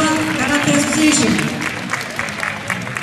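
An audience at a karate tournament in a hall claps, dense sustained clapping from many hands that starts loud and tapers off over a few seconds.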